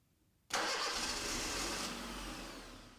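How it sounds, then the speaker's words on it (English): A car engine cranks and catches abruptly, then settles into a steady, loud idle that eases slightly over a few seconds, heard on its own during a brake master cylinder check with a vacuum gauge fitted. "Start the engine."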